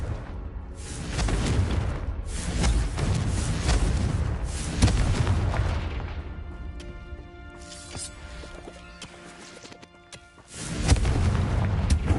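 Repeated booming blasts of the Confringo fire spell in the Hogwarts Legacy video game, loud and close, with a quieter lull of ringing tones before another explosion hits near the end.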